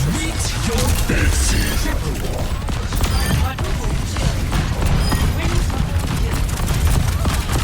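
Rocket barrage pounding down in a video game: a dense, continuous roll of explosions and crashing impacts throughout, loud and busy, with voices calling out briefly beneath the chaos.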